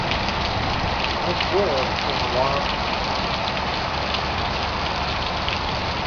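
Heavy rain floods a street in the Arizona desert around Phoenix, giving a dense, constant hiss of falling and running water while people talk briefly over it.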